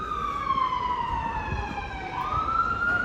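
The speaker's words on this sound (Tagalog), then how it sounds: "narinig mo na naman yung ambulansya" A wailing ambulance siren sweeps up and down continuously over steady road traffic noise on Gran Via, Madrid, fairly loud and close by.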